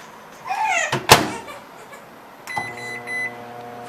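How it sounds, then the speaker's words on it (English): A microwave oven door clunks shut on a popcorn bag, followed by beeps and a steady, close hum as the oven starts running. "Throw it in your microwave"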